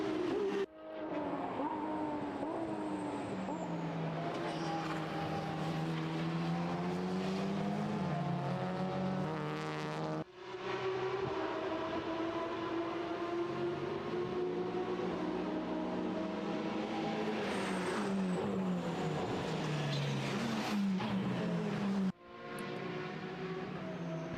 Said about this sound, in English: 911 in whatever category it's racing in makes an almighty noise